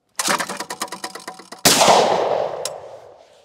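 Shotgun blasts at clay targets on an outdoor range while preparing for grouse season: a quick run of sharp, loud cracks in rhythm, then one heavier close report whose echo decays for a couple of seconds.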